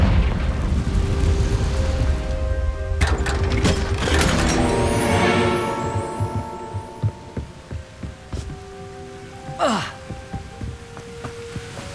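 Confringo blasting spell in Hogwarts Legacy erupting into a booming explosion with a deep rumble, followed by bright magical shimmering tones, scattered rattling impacts and a rising whoosh, loud and close.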